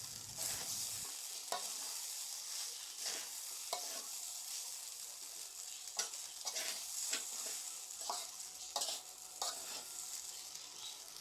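A pan of Bengali fish-head muri ghonto, finished with ghee and chopped coriander, is stirred over steady close sizzling, with a scrape of the spoon every second or so.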